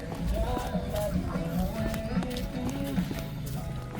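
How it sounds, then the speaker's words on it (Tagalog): Horse hooves clip-clopping on a muddy rural path near a campsite, a steady plodding rhythm close by under continuous outdoor background noise. "Kabayo."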